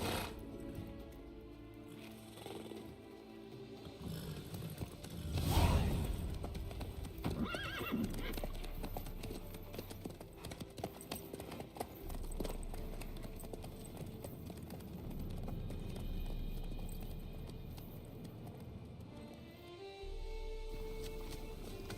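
A horse in The Witcher 3: Wild Hunt clip-clops along at a steady walk, the hoofbeats close and continuous for a long stretch, with one brief neigh early on and a low ambient hum beneath.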